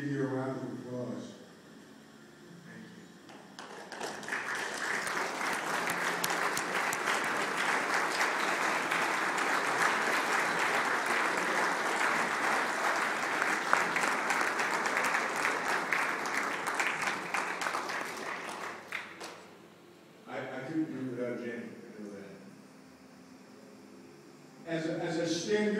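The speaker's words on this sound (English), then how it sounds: "so we can give you a round of applause" An audience at a 2011 ceremony honoring Marines bursts into long, sustained applause for standing family members, loud and dense for about sixteen seconds, with a speaker's voice at the start and end.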